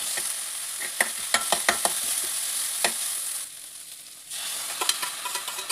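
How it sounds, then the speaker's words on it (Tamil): Onion sautéed with ginger garlic paste in a pan, a continuous close sizzle broken by sharp spatula knocks and scrapes against the metal as it is stirred. "ஒரு 5 to 6 மினிட்ஸ் நல்லா வதக்கிக்கோங்க"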